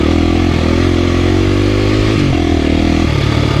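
A four-stroke dirt bike engine runs steadily on a single-track trail, a loud close drone that holds a fairly even pitch with a slight shift partway through.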